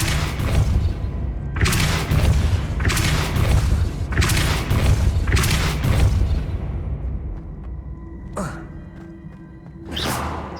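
Depulso spell impacts in the video game Hogwarts Legacy, a series of loud, deep booming bursts in a steady rhythm followed by two sharper hits, close and dominant over a low background.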